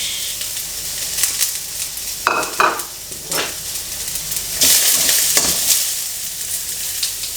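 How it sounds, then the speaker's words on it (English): Bean sprouts and shrimp sauté over high heat in a pan with shallots, giving a steady hiss with bursts of loud sizzling as the food is stirred and tossed. "The shallot is sauteed already, so I'm gonna put in bean sprouts. Plus my beautiful shrimps."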